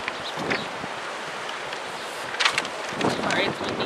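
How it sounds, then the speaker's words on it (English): Gusty wind buffets the microphone, a steady rumbling roar with a couple of louder blasts near the end; a voice is faintly audible beneath it. "Sorry, it's windy."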